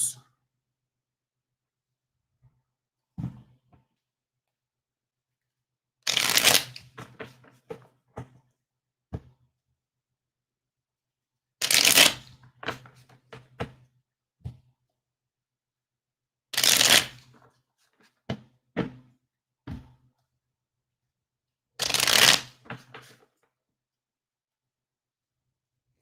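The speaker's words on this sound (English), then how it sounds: "Sister Pam, I'm still shuffling" Tarot cards are shuffled in several quick riffling bursts spaced a few seconds apart, with soft taps and clicks in between and quiet pauses.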